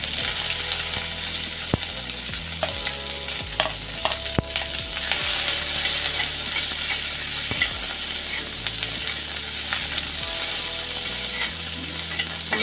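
Onions fry in a pan as the base for an okra and potato curry, giving off a steady, close sizzle. Scraping and stirring clicks break in now and then, and nobody speaks.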